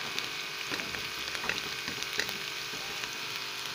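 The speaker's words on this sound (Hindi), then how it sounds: "मैंने आयल में ये मोंगरे शामिल कर दिए, इनको फ्राई कर रही हूँ" Radish pods (mongre) frying in hot oil for an aloo mongre dish, giving a steady close sizzle with scattered small crackles and pops throughout.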